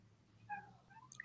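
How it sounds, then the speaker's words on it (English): A house cat meows insistently, desperate to be let into a room: a few faint, drawn-out cries heard at a distance against a quiet background hum. "I'm sorry if you hear my cat going insane"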